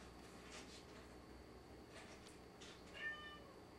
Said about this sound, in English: Hang on, my cat is like meowing.